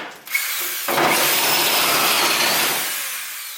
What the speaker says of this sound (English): The reason I use a step bit is because sometimes you have to go a little bit further to get it to pop.